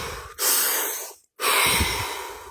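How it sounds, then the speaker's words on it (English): Two long, loud, close breaths during a relaxation exercise, each a drawn-out airy rush, separated by a brief silent pause. "Take 3 deep breaths."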